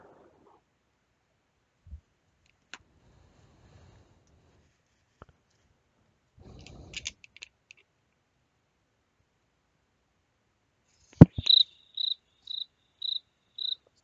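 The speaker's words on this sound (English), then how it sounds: "Awkward crickets." Crickets chirping in short, evenly spaced bursts near the end, following a stretch of near silence broken by a few faint clicks and rustles.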